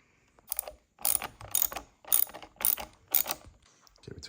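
T30 Torx bolts being ratcheted out of a Porsche 996 steering wheel plate: close, rapid clicking ratchet bursts in a series of about six short runs, separated by brief pauses.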